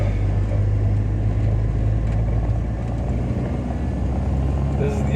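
A car driving off down a driveway, with a steady low engine and road rumble heard from inside the cabin, continuous and fairly loud throughout, with no clear change in pace.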